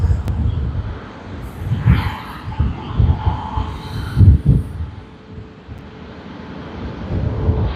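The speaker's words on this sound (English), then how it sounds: "there's a Boeing 787-8 Dreamliner of Jetstar landing in the background" A Jetstar Boeing 787-8 Dreamliner lands at Sydney Airport, a distant low jet rumble rising and falling beneath gusty wind buffeting and outdoor handling noise.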